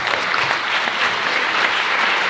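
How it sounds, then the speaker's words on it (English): An audience breaks into a round of applause, dense steady clapping from a full room that holds at the same level without pause and with no voice over it. "Please give a round of applause to Dave Meslin as well for everybody."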